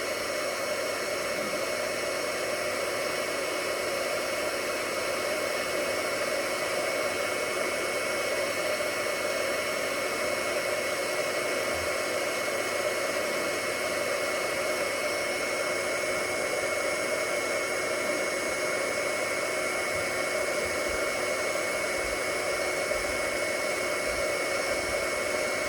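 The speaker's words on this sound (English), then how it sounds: "you just kind of heat that so it shrink wraps around it" Heat gun shrinking heat-shrink tubing onto Jeep Wrangler lighting wiring, a continuous close blowing roar with a steady fan whine, unchanging for the whole stretch with no talk.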